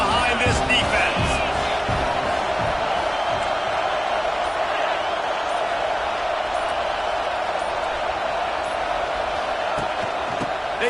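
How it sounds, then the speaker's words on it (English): A football stadium crowd roars steadily behind a defense on a big third down, a dense sustained wall of cheering and noise that never lets up, with a commentator talking over it. "Big 3rd down as the crowd gets behind this defense."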